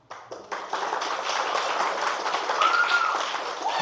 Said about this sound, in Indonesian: Kurang keras tepuk tangannya